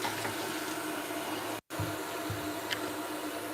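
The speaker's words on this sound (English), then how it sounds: "So get some water" Water runs from a kitchen tap while cooking: a steady, loud rushing stream with one brief cut-off partway through before the flow resumes.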